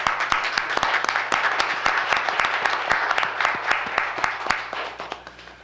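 Audience at a Board of Education meeting breaks into applause, steady dense clapping from a modest crowd in a meeting room, with some sharper individual claps standing out before it thins slightly at the end.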